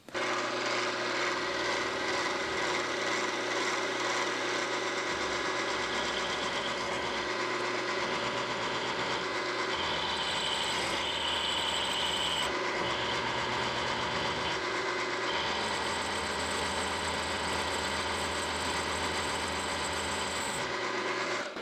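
Lathe taking a relief cut on a steel part for a knurling tool in a machine shop, a steady mechanical drone with a shifting cutting tone and brief changes as the cut starts and stops.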